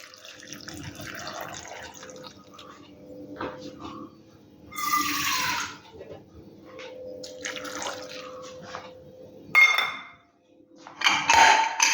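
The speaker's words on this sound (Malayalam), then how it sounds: "ഇനി നമുക്ക് ആവശ്യത്തിന് വെള്ളം ഒഴിച്ചു കൊടുക്കാം." Water is poured into a pressure cooker holding vegetables for sambar, coming in a few short splashing bursts separated by quiet pauses and faint clinks.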